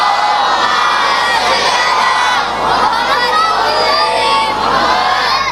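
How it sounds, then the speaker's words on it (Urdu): A large majlis audience at a Muharram gathering recites salawat aloud together, a dense, loud chorus of many voices swelling in waves and sustained throughout. "جسے صلوات یاد ہے وہ کوشش کرے بلند آواز سے صلوات تلاوت کرے۔"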